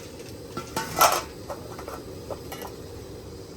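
A lid set onto a cooking pot at an outdoor fish-cooking spot gives one clear metallic clatter, followed by a few lighter clinks, close and without talk.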